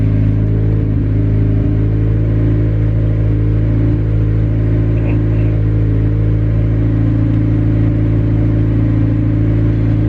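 Single-cam Honda D16 engine with aftermarket injectors idling close by, a loud steady low rumble with an even, unchanging drone and no voices.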